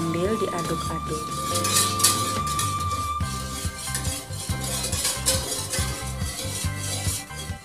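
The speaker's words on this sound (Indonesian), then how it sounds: "Masak sampai mendidih sambil diaduk-aduk." Milk, creamer and coconut milk are stirred in a pot as they heat toward a boil; a spoon gives soft repeated scrapes and light clinks against the pot, close by, over steady background music.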